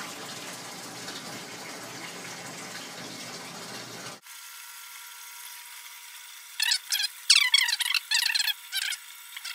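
Water rushes steadily into an acrylic aquarium sump tank with a continuous hiss, then the sound shifts to thinner splashing and gurgling bursts toward the end.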